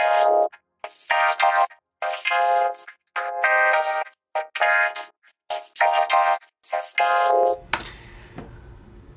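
Soloed vocoder vocal from an arrangement of Zedd and Alessia Cara's "Stay", played without the keyboard parts: choppy, robotic harmonic phrases in short bursts separated by gaps, ending in a brief wash of noise.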